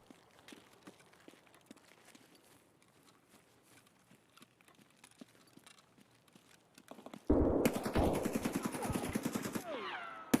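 Gunfire in the video game Escape from Tarkov, with faint scattered shots and footsteps before a sudden loud, rapid burst of automatic fire near the end.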